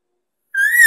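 A voice imitates bull elk chuckles without a calling tube, producing one short rising whistled note after half a second of silence, loud and close, with no talk.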